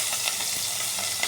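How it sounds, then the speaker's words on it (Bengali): Boiled chicken pieces with ginger-garlic paste fry in a pan, giving a steady close hiss of sizzling oil with soft stirring scrapes and no voices. "চিকেনটাকে আমি একটু ভাজা করব।"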